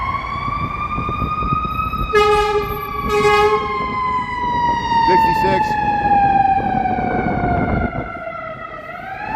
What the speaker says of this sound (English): Here comes an ambulance here.